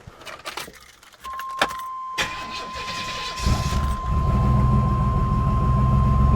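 Keys jingle, then a car engine cranks briefly and a little slowly on its own battery, without a jump starter connected, and catches, settling into a steady idle with a constant high whine.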